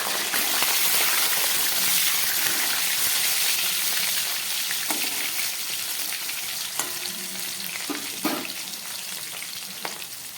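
A few pieces of potato dropped into hot oil, giving a loud, dense, continuous frying sizzle up close that eases slightly over time, with occasional stirring clicks.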